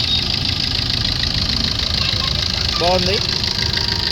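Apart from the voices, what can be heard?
2012 Maruti Ertiga VDI diesel engine idling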